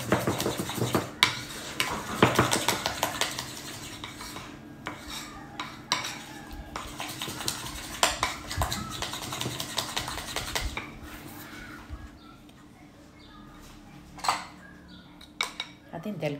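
Cream cheese, icing sugar and lemon zest are whisked in a bowl for carrot cake frosting: rapid clattering taps of a utensil against the bowl in busy bursts, easing into sparser clinks later.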